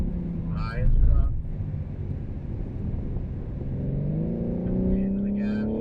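A BMW M3 on the track at Circuit of the Americas, its engine note swelling and rising in pitch as it accelerates, with wind buffeting and someone talking over it.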